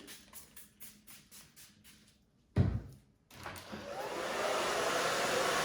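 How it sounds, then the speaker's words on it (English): Handheld hair dryer blowing steadily after a few clunks and a thump, drying short hair during a haircut, loud broadband airflow close by with no talk. "we're just gonna dry this back down"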